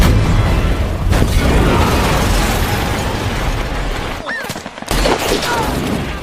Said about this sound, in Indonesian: anggota Church itu membawa senjata bazooka dan menghancurkan sebagian pos militer